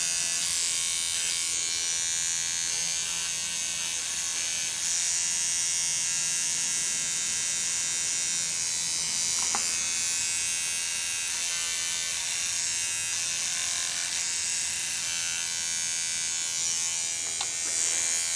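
Steady high-pitched electric buzz of a new electric toothbrush vibrating against metal shop work on a Bridgeport mill boring setup, loud and continuous with no talk.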